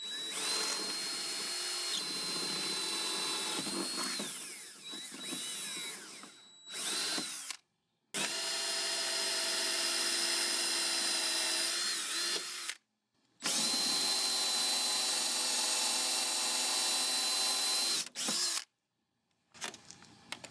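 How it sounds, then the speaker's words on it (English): A power drill whines at high pitch in long close bursts, pausing briefly between runs, with grinding as the bit bites into metal while drilling out rivets on Scion tC doors. "So we're gonna start drilling these rivets out."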